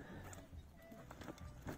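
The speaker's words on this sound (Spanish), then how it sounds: "Me gusta el flequillo de este caballo" A horse whinnies and snorts nearby, with faint hoof clip-clop mixed into steady background noise over a short stretch.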